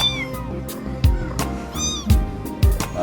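A kitten trapped inside a hole cries out in a run of short, insistent meows, several close together and clearly audible, with no speech over them.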